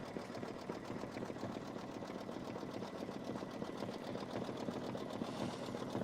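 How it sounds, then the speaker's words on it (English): A Kimberbell embroidery machine stitches a Bonjour tea towel, giving a steady, fast, continuous mechanical whir and needle chatter throughout, close and even with no talking. "I'm going to try to stitch some of the embroidery today, let it run."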